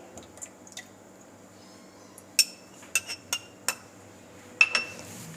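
Eggs cracked into a bowl while making a mayonnaise sandwich: a string of sharp clinks and taps on the bowl rim, with a couple of soft wet drops, close and fairly quiet with no talking.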